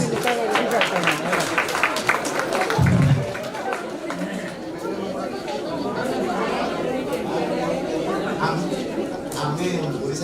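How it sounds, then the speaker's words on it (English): A conference audience applauds amid loud chatter and crowd babble, the clapping mixed beneath many overlapping voices and a brief low thump early on. "Guys, give a huge round of applause."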